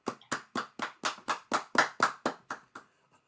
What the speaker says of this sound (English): Clap for yourself, Loretta.